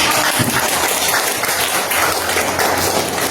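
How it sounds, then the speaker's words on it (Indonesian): Applause for Putri in a classroom: dense, steady clapping from a group of people, loud and close, filling the whole span without pause. "Kasih aplaus untuk Putri dan"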